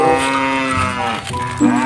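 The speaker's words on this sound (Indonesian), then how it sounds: "ada suara sapi" A red and white cow gives one long, loud, drawn-out moo that lasts nearly two seconds, with a brief rise in pitch near the end.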